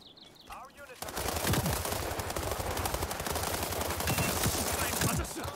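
Artillery strike and gunfire in the video game World War 3, a dense, loud stretch of rapid shots and blasts that starts abruptly and keeps going, with a brief tone before it.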